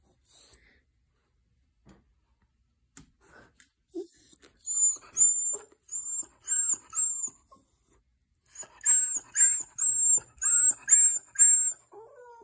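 A female dog whimpers and cries in a quiet room, letting out a string of high, thin whines in short repeated bursts that grow more frequent after a few soft isolated sounds at the start.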